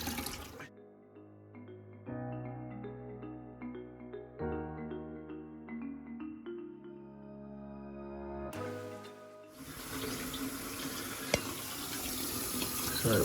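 A toilet cistern refills after a siphon refit, with water running and trickling in shifting tones. Then a sudden loud flush rushes and gurgles and keeps going to the end.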